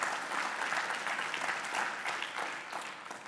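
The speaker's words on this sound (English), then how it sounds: "give your parents a round of applause" Sustained applause from a school awards audience honoring students' parents, a dense, fairly faint wash of many hands clapping steadily without any speech.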